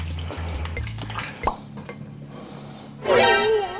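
Doritos crisps soaked in milk are poured from a holed bag into a pan, giving scattered drips, a soft plop and bag rustles, then a louder burst of liquid splashing and sizzling near the end.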